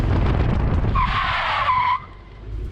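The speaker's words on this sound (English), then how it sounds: "it can also generate about 1G of braking before it locks the wheels and the tyres skid" Tyres skid as a 40-year-old petrol Porsche 928 on skinny tyres and without ABS brakes hard and locks its wheels, a loud sustained squeal of about a second over road and engine noise.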